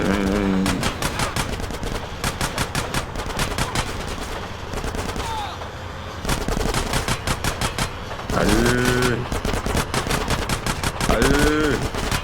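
Rapid bursts of gunfire in GTA San Andreas, loud repeated volleys of shots crackling almost continuously with brief pauses, along with other game sounds.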